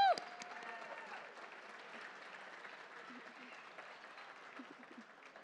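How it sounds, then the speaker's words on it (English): Applause from the audience at an annual investment forecast event, an initial cheer followed by soft, fairly distant clapping that holds steady and slowly fades, with faint voices underneath. "And let's give a big applause to everyone here."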